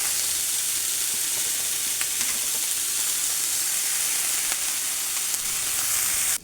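Onions sauté in a hot pan, giving a loud, steady sizzle that holds unbroken and close, with faint stirring clicks and no voices over it.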